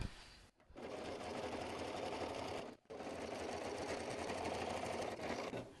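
A sewing machine stitches a quarter-inch seam on a quilted bag, running in a steady fast whirring hum that stops briefly twice, close and quiet.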